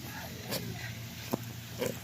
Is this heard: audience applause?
no